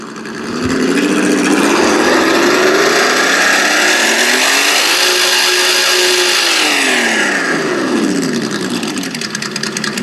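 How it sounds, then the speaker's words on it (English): An Axial SCX6 RC car's ESS Dual electronic engine sound module rises in pitch as the throttle is pulled, holds a steady high whine, then winds back down, loud and close. "the more you pull the throttle and the more it accelerates, the louder and the more it revs up"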